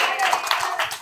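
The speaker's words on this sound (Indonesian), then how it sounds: "Tepuk tangan dong penyanyi pertama." People at a neighbourhood community meeting clap for a singer, a brief patter of handclaps close by with voices talking over it.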